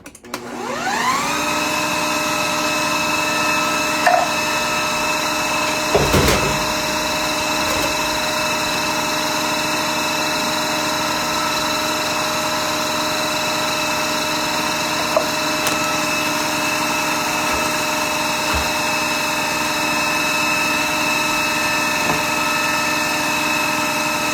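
An electric mixer beats thick lemon pound cake batter in a bowl, giving a steady, loud motor whine that starts abruptly and runs on unbroken, with a few faint knocks of the beaters against the bowl and no talking.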